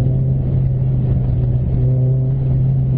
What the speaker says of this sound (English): Just a touch of the pedal and the car is off.